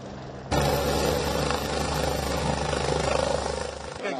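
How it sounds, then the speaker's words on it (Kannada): A helicopter takes off from Belagavi with a loud, steady engine roar and a fast rhythmic rotor throb. It starts abruptly and holds close and constant throughout. "ಬೆಳಗಾವಿಯಿಂದ ಹೆಲಿಕಾಪ್ಟರ್ ಟೇಕ್ ಆಫ್ ಆಗಿದೆ"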